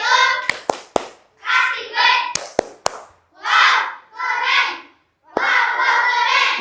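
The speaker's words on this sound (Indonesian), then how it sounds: "Oke, kasih tepuk wow dulu untuk kita semua. Tepuk wow." A primary class of fourth-graders in an Indonesian school claps out a rhythmic 'tepuk wow' chant: sharp, loud claps in quick groups alternate with children's chanted voices, close and lively.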